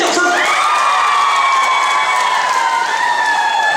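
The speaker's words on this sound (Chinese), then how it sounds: "就互阮的所有的工作人员跟台上的这些歌手热情的掌声，掌声！" A concert audience in a theatre in Tainan breaks into loud, sustained applause with cheering and whoops, a dense continuous roar filling the whole stretch.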